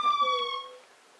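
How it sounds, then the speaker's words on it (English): A locator siren from an OUTAD 2-in-1 outdoor portable Bluetooth speaker gives one short, close, steady electronic tone that fades out within about a second. "It's a locator siren."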